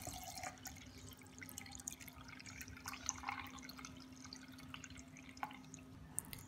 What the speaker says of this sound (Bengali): প্রথমে একটা ব্লেন্ডারের জারে আমের মিশ্রণের পানিটা নিয়ে নিচ্ছি